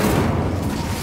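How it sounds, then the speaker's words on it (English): An Incendio fire spell is cast in Hogwarts Legacy, a dense rumbling whoosh of flame that stays loud and close throughout its short burst. "Incendio."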